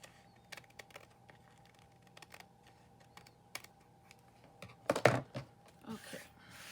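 Paper being trimmed while making a handmade ephemera pocket: scattered soft clicks and snips, then a louder burst of rustling and scraping near the end.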